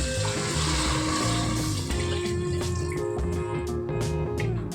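Water poured onto rice for a mixed-vegetable rice dish: a close, continuous splashing and gurgling pour filling the pot, with a few clinks near the end and no talking.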